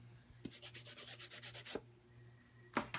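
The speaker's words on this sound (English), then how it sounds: "I am using my Stampin' Scrub here and my Stampin' Mist to clean my stamps off." Rubber stamps are scrubbed on a damp Stampin' Scrub pad, giving quick rhythmic rubbing strokes in a short burst, then a pause and a couple of isolated swipes, quiet and close.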